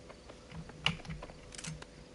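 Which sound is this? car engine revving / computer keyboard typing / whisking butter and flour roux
computer keyboard typing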